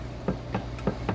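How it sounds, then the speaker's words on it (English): Four quick, light clinks of utensils against a plate, evenly spaced, close and faint over a low background hum. "Excuse the plate noise."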